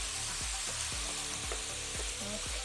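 Garlic, onions and mushrooms fry in a pan with a steady, close sizzle, and a utensil stirs and scrapes them in a loose rhythm of repeated knocks, with no voices.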